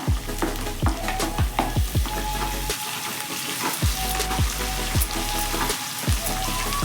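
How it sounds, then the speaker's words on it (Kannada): Thinly sliced onions frying in oil, heard as a continuous close crackling sizzle with regular soft pops and stirring strokes throughout, fairly quiet and with no talking. "ಇವಾಗ ಈರುಳ್ಳಿ ಹಾಕೋತಾ ಇದ್ದೀನಿ"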